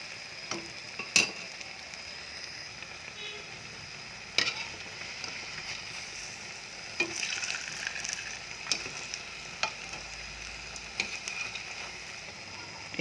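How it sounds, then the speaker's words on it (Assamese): Dahi vada frying in hot oil, a soft continuous sizzle with occasional sharp clicks and clinks of a utensil against the pan, close but quiet, with no talking. "এতিয়া লুটিয়াই লুটিয়াই ঘন ঘনকৈ ৰঙচুৱা হোৱালৈকে ভাজিম।"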